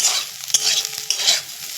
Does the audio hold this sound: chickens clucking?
no